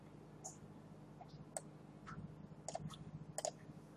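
Computer mouse clicks while editing a species page on a wiki site, a few faint, sparse clicks scattered over a quiet room background with no talking.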